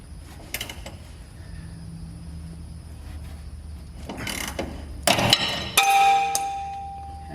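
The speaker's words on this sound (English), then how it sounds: "this rear bolt is a 11/16, so I'll go ahead and get the nut off of this one" A ratchet working a nut off a rusty rear hanger bolt on a Chevy K5 Blazer, with a few quick metallic clicks and clanks. They come close and fairly loud after a quiet stretch of shop ambience.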